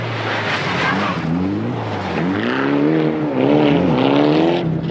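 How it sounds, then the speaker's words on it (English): Toyota Celica Group A rally car on a Welsh forest stage at the 1995 WRC Rally GB, engine loud and close, revving up and down through gear changes with rising and falling pitch sweeps. "he was even overhauling more powerful Group A cars like this Toyota Celica of Andrea Navarra"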